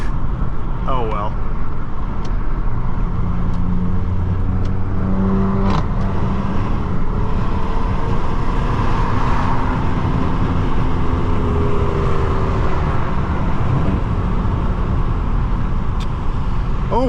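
A 2004 Nissan Maxima 3.5 SE is driven from inside the cabin, its engine note rising and falling with low steady road rumble throughout, while people talk over it.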